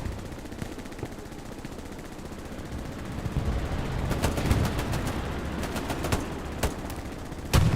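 A PPSh submachine gun fires in rapid bursts during a competitive Stalingrad railway match, loud and near, rattling repeatedly in the second half over a low battlefield rumble.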